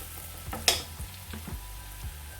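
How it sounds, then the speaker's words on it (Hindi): Onions browning in a pan for a pastrami biryani, a soft sizzle under a few low knocks of a spoon stirring, one sharp scrape standing out near the start. "प्याज को बस हम इतना ही ब्राउन करेंगे, ज़्यादा ब्राउन नहीं करेंगे।"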